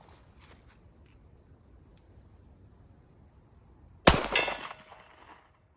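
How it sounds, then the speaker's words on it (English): One CZ Shadow 2 pistol shot fired in double action, with the round striking a steel target 50 yards out: a sharp loud crack and metallic ring that decays over about a second after a quiet lead-in. "shoot it at a C-zone piece of steel in double action at 50 yards"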